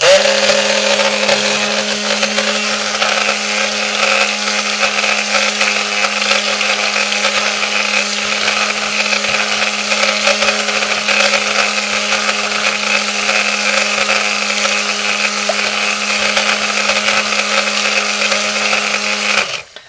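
Stick blender whirring steadily as it mixes homemade lye soap batter, a loud continuous motor hum with a strong low drone that runs alone without pause until cutting off at the very end.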